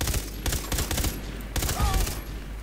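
Gunfire from Far Cry 3 multiplayer comes as several loud, blunt bursts of automatic shots, two main volleys separated by brief pauses, close and dominant, with no speech.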